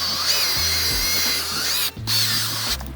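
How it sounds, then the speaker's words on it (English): A cordless drill fitted with a scrub brush attachment works a lathered car seat, its high whine running steadily with short low motor surges and one brief stop before spinning up again. "Get your drill brush attachment"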